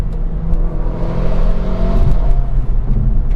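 An all-wheel-drive car with a DCT gearbox revs toward its 6200 RPM redline, a loud, steady engine roar and rumble accelerating continuously without talk.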